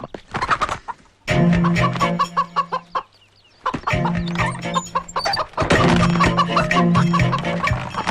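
Chickens cluck repeatedly in bursts with short pauses between, close and fairly loud, with a farmyard feel.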